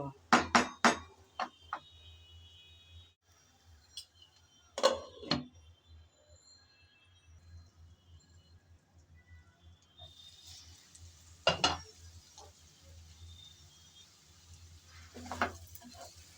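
A utensil scrapes and clinks against a pan as taro stolons are stirred and mixed during cooking, with sparse clatters spread over a low steady hum and a soft hiss rising later.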